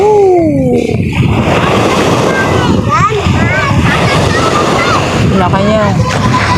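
Large sea waves roll and crash under strong wind at sea during a Filipino fishing trip, a continuous loud roar of surf and gusts close to the microphone, with voices talking over it.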